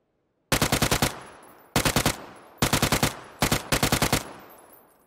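UMP45 submachine gun fire in PUBG, heard as four rapid automatic bursts of close, loud shots separated by short pauses, with no talking.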